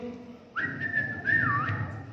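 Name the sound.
whistling imitating a bird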